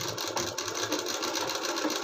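A sewing machine stitches a sleeve into a blouse in a rapid, even run of mechanical clatter, close and steady for a couple of seconds.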